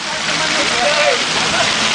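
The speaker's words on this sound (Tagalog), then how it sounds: "Sobrang lakas ng ulan." A dense, steady hiss of heavy rain pours down continuously, loud and close, filling the whole stretch without pause.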